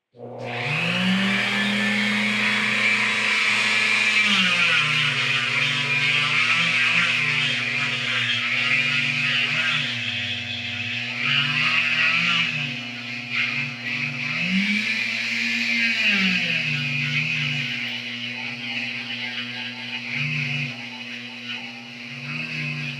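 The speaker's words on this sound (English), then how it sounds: "I got my Dremel set up here with a kind of a sanding bit on it" A Dremel rotary tool fitted with a sanding bit grinds out holes, giving a loud, close, continuous high whine whose pitch dips and recovers as the bit presses into the material, alone without talking.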